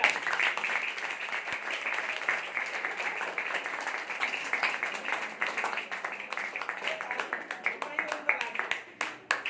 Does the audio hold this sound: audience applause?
yes